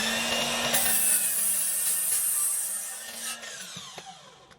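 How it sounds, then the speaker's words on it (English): Power saw cutting the end off a wooden board for a scrap-wood workbench, a high whining buzz through the cut that fades as the blade spins down, close and alone. "So here I'm cutting off the end of the board to get a perfect 90-degree angle"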